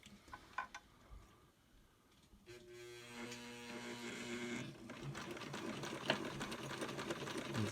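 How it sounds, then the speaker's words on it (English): A Brother Boutique 751 sewing machine runs steadily with a fast mechanical whir that builds after a quieter start, carrying a faint irregular clunking and knocking beneath the motor. "It's making a weird noise. Yeah. A clunk. There's some knocking."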